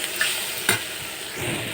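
Rice frying and being stirred in a pan, a steady close sizzle with a couple of sharp scrape accents from the spatula over a short stretch.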